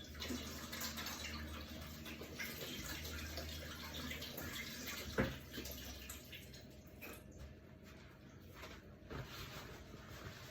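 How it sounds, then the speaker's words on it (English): Hands being washed under a running kitchen tap, a steady, fairly faint stream of water with small splashes and one brief louder knock midway, no talking. "I'm just going to give my hand a quick wash."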